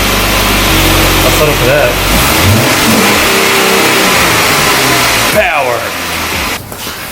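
A Jeep engine, just back in working order after a refresh, starts and revs loudly up close, with rising and falling pitch; a voice speaks over it near the end.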